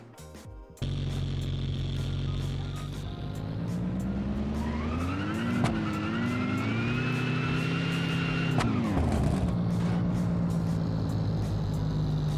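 A simulated car engine in Engine Sim drones steadily throughout, with its pitch climbing as it revs up, then dropping abruptly near the end before settling back to a steady idle-like hum.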